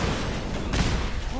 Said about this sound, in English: that makes sense why there's all these explosions going on